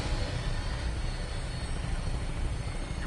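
An aircraft taking off in Fallout 4, a steady, loud rotor-and-engine drone with a dense low rumble and broad hiss, continuous and close throughout without voices.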